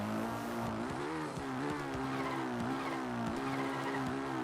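A dirt bike engine in Zelda: Breath of the Wild, Champions' Ballad, drones steadily and loudly close by as it holds a wheelie, its pitch wavering up and down with the throttle.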